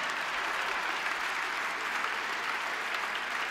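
An audience at a fado show claps, a steady, even wash of applause from many hands, somewhat distant and muted, with no break.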